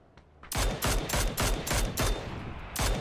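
A rapid series of loud, sharp gunshots in PUBG rings out in quick bursts, about eight cracks in three seconds, close and punchy.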